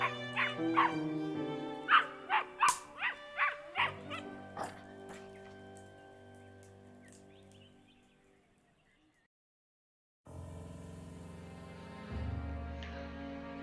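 A puppy in the ending of a Sherlock Holmes Hound of the Baskervilles video game barks in a quick run of close, bright yips, then trails off to silence before soft music resumes.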